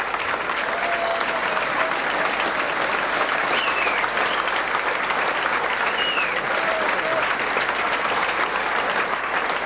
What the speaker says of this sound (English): And listen to the applause Kincladze will get from the Argyle faithful.